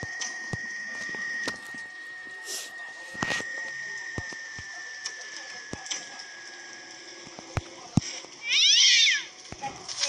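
A cat meows in the Slendrina 2D video game, a short, fairly loud cry near the end, over a steady high-pitched game tone with scattered ticks and taps.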